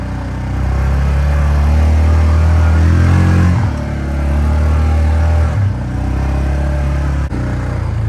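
A quad ATV engine revs hard at high RPM on an old trail. A loud, close, rough roar holds steady, with brief dips and clatters as the throttle eases off and picks back up.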